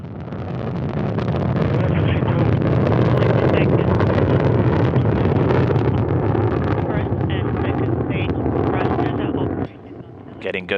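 A Soyuz rocket with four strap-on engines thunders through its first-stage launch burn, a loud continuous broadband roar that holds steady for several seconds before cutting down sharply near the end.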